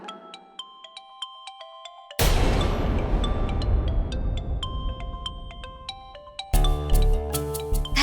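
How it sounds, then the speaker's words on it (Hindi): A mobile phone rings with an incoming call, playing a melodic electronic ringtone of repeating tones, first alone and then beneath louder bursts of background music and noise. "उसी का कॉल आ रहा है"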